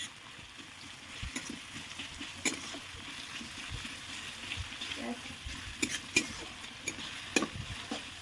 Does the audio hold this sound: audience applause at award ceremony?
no